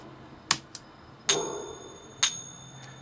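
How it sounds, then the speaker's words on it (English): Chime percussion in a music mix, a few bright metallic strikes with ringing decays, isolated and clear against a quiet background. "Let's go get these chimes."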